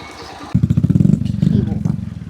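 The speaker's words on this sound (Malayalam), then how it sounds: "ബൈക്ക് ഇവിടെ വയ്ക്കാം." A motorcycle pulling up to park at a roadside stop below a hill viewpoint. Its engine kicks in loud and close with a steady, throbbing idle that pulses on, and a voice is heard briefly just before it.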